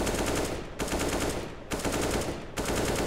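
Rapid automatic gunfire in CS:GO on the Mirage map, fired through a wall: three loud sustained bursts with brief gaps between them, close and dominant, no talking.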